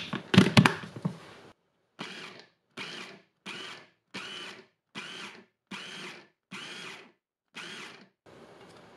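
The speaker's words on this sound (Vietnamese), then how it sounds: "Chỉ cần xay nhanh qua thôi, hoặc là trộn cũng được nếu không có máy." A small blender grinding glutinous rice flour with mung beans, first in one loud burst, then in about eight short, even pulses with brief silences between them, close by and with no talking.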